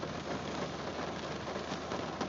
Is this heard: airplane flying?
no